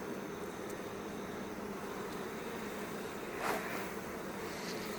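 Honey bees buzz in a queenless hive as they pack nectar and pollen into the frames, a steady, moderately faint hum with one brief swell partway through.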